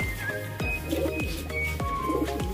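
Pigeons coo softly and repeatedly in a steady rhythm, with low, rolling calls over faint background noise.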